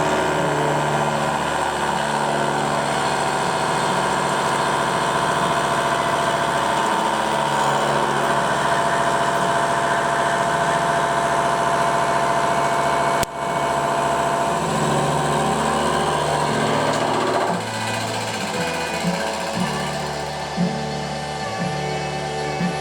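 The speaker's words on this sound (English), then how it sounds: "the old manual mill with a big slab insert carbide face cutter still reigns supreme" A manual milling machine with a large slab insert carbide face cutter runs continuously, a dense, loud mechanical drone with a rhythmic cutting chatter that holds steady throughout and shifts slightly in tone near the end.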